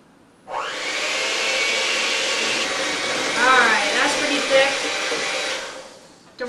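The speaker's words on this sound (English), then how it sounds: "And turn on the mixer on low." Electric mixer running on low speed while making a Philadelphia cream cheese dessert with milk, a steady close whirring drone that starts abruptly, holds for about five seconds with slight wavering, then winds down.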